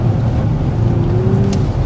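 Loud, continuous roar with a rising whine partway through, a 2026 Hyundai IONIQ 6 N revving hard under sustained throttle while drifting.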